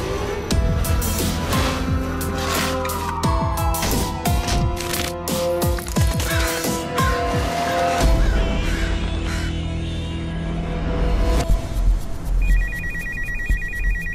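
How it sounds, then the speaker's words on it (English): A telephone rings in the night, its repeated electronic ring loud and close and continuing steadily throughout, with no talk. "The phone call in the middle of the night."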